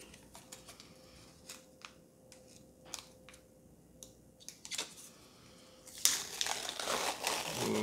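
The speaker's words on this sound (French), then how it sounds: "Ensuite, vous ouvrez votre sachet à écouvillon." A Covid self-test swab sachet is handled and torn open close by, with soft crinkles and small ticks of plastic, then a louder rip and rustle of the packet near the end.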